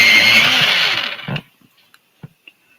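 Pencil sharpener grinding a coloured pencil during a colouring session: a dense, loud rasping burst lasting over a second, then a few faint clicks and taps in near silence.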